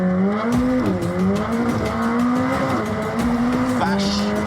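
A McLaren 765LT sports car accelerates hard at full throttle, its engine note climbing steeply in pitch through several quick upshifts, loud and close, with a brief voice near the start.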